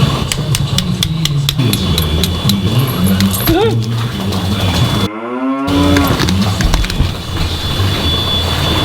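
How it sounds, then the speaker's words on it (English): A cow lows once in a barn, a short upward-bending call close by, amid steady livestock shed noise, clanking and people talking. "She's a really good cow, isn't she?"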